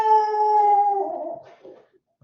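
A dog lets out a loud, sustained tonal howl that wavers and slowly fades into a few softer whimpering yelps, close by, with no talking over it.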